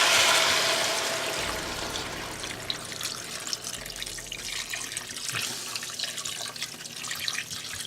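Ice cold water pours steadily into a soup pot while making pumpkin buttercup squash soup, a continuous splashing trickle, close and moderately loud, with no talking.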